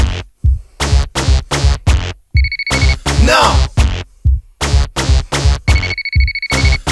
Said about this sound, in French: Pas la peine d'appeler, je ne réponds pas au téléphone.